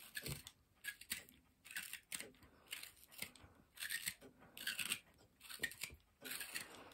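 A pipe reamer turns inside the bowl of a tobacco pipe, scraping away carbon cake in a series of rhythmic, gritty rasping strokes, roughly ten close, moderately quiet scrapes repeating at a steady pace.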